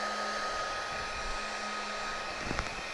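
A Bauer 20 volt cordless heat gun runs continuously with a steady whirring fan and airy rush, fairly quiet and even, after about eleven minutes on one battery.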